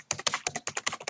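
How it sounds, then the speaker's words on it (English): Fast typing on a loud computer keyboard clatters close to the microphone, about a dozen sharp key strikes in quick, slightly uneven rhythm with short gaps, alone and with no speech. "Sorry, my typing's loud."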